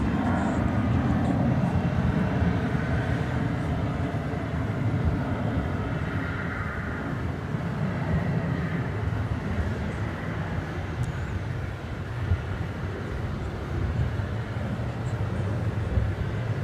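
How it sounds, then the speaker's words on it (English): A Boeing 737-800 airliner takes off at DFW Airport, its engines a steady, loud broadband roar that holds without a break and with no talking. "This is flight number 2698 off to Albuquerque, a 737-800."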